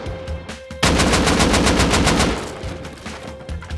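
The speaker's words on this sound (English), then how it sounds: "I'm gonna shoot with the explosive ammo." In the video game Rust, a gun firing explosive ammo lets off a rapid burst of about fifteen loud shots at an even rate. It starts abruptly, lasts around two seconds and dies away into a rumble, with no talk.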